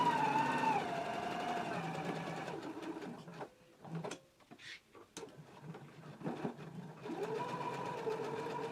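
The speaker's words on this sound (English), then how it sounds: "we can go ahead and stitch around the collar, being sure to leave the single notched edge open" A sewing machine stitches around a jacket collar in steady bursts, pauses midway with scattered small handling clicks, then resumes its continuous close, moderately loud whir.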